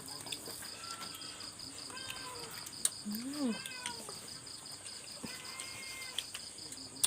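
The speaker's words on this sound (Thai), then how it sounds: "จากเสียงแมว" A cat meows briefly amid a busy night backdrop of chirping insects and crickets, with faint bird calls and occasional clicks.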